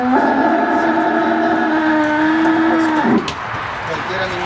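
A roughly three-year-old bull lows at a ranch, one long, loud, tonal moo that holds steady for about three seconds before breaking off, followed by quieter outdoor background.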